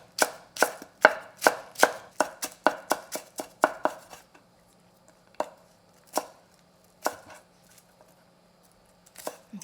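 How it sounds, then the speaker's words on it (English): A knife thinly slices green onions into thread-like strips on a cutting board, tapping in a fast, even run of crisp cuts before slowing to a few scattered strokes, close and clear with no talking. "I'm going to slice this very thinly, like threads"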